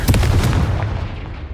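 Confringo fire spell explosion in Hogwarts Legacy, a single loud close blast with a booming low-end rumble that decays quickly.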